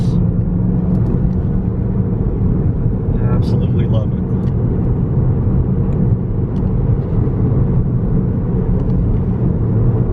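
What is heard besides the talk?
Volkswagen GTI Rabbit Edition engine driving on back roads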